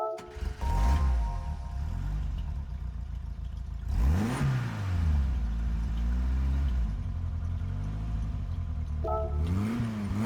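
A 1966 Renault R8 Gordini in Gran Turismo 7 starts up and settles into a steady mid-pitched idle. Two sharp revs rise and fall over the constant engine drone, played loud and close.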